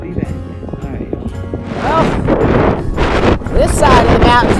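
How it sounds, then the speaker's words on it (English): Strong wind on a mountain trail at about 13,000 feet buffets the microphone in loud gusts, with rumbling noise and voices mixed in. "this side of the mountain's a little windy"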